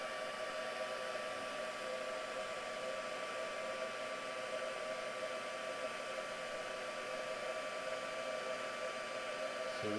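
A handheld heat tool blows hot air to melt clear embossing powder on a vintage Christmas papercraft, giving a steady, close whirring hiss that runs unbroken for the whole stretch with no voices.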